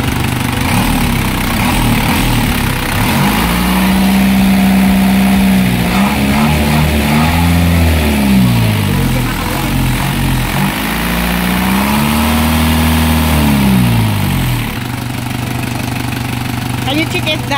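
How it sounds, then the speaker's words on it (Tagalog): An Isuzu 4HF1 diesel engine in a surplus Isuzu Elf truck idles loudly and steadily, with its note rising and falling a few times as it is revved, while someone talks over it. "Ito yung engine 4HF1 mga kabusing."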